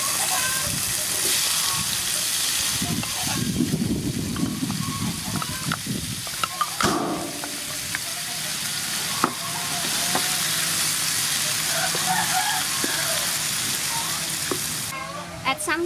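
Potatoes frying in soybean oil with chopped garlic give a steady, close sizzle and crackle, with occasional clinks of a utensil stirring the pan throughout.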